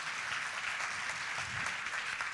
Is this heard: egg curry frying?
no